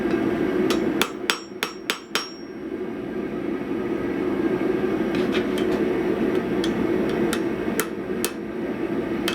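Sharp metallic hammer blows peen the rivet on small forged transfer calipers, a quick burst of about six strikes, then a pause, then scattered single taps over a steady background hum.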